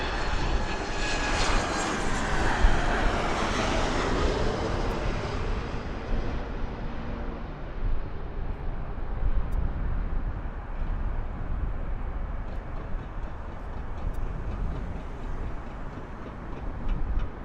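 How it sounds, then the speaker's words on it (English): A jet airliner's engines roar at Las Vegas Harry Reid International Airport, a loud continuous rumble with a high whine that gradually fades as the aircraft moves away, with no voices over it. "Can you guys hear the engine roaring?"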